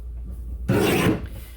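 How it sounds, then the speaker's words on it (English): A paper trimmer slicing through a stack of cranberry-colored paper trimmed to 7 inches for book pages: one short, close rasping cut in a quiet room, with no talking. "So both of these will be trimmed at the same time at 7 inches."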